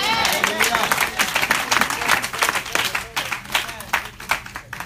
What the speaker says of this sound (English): Somebody clapping